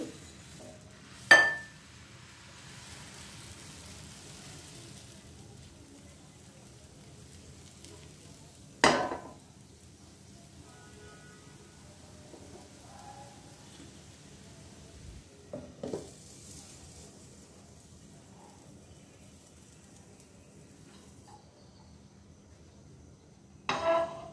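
Khola jali pitha batter fries in a pan with a faint, steady sizzle, broken by a few sharp clinks of utensils against the pan at intervals.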